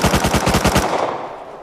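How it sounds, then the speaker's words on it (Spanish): Rapid automatic gunfire from a weapon in the survival video game Rust, a loud burst of about a dozen evenly spaced shots over less than a second, then ringing decay with no talk. "Estoy disparando al armario."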